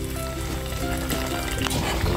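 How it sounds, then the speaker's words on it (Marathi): Hot water poured into a pan of masala and boiled white peas frying in oil, a steady liquid hiss and sizzle that keeps going throughout without any talk. "तर ह्यामध्ये थोडं गरम पाणी घालायचं।"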